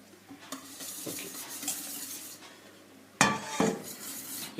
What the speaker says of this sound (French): Je remue sans discontinu pour éviter que ça accroche